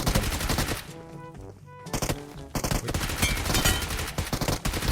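Rapid, loud gunfire in Metro Royale, a dense run of sharp shots with a brief lull before firing resumes and continues to the end.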